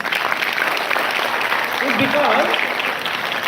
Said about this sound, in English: please give all of them a big applause